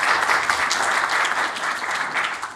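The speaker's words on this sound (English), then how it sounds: "A warm round of applause." A festival audience gives a warm round of applause for a panel of speakers, dense, steady clapping from many hands that stays loud throughout and dips only slightly at the very end.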